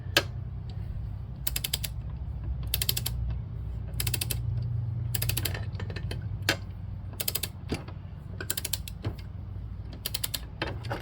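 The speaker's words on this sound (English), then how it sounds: "torque wrench, got it set for 50 foot-pounds, got a 5/16 socket on it" Torque wrench set to 50 foot-pounds with a 5/16 socket tightening a blade bolt on a 2006 Craftsman lawn tractor deck, producing repeated quick ratcheting clicks in bursts over a low background hum, close and fairly quiet.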